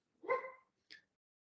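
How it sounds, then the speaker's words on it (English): A dog barks twice indoors in the background of a conversation, first a loud, fuller bark and then a shorter, sharper one, both fairly near. "please excuse the dog."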